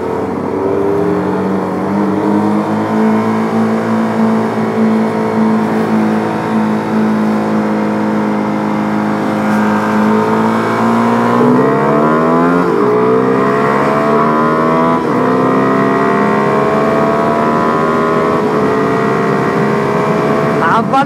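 A tuned Peugeot 207 drag races a CF 250 SR and a Pulsar RS200 as engines drone steadily and then climb in pitch together, loud and close throughout.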